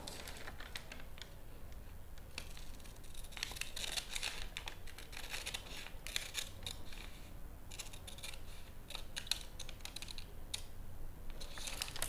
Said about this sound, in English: So we just cut that and cut this leg as well.